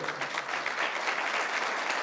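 A school audience claps on request during a speech, a dense, steady burst of applause from many hands in a hall, continuous for the whole moment.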